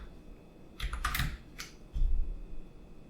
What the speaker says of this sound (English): So let me just type this.